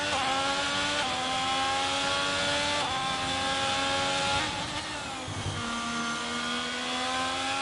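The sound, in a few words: F1 22 race car driving flat out at Singapore, video game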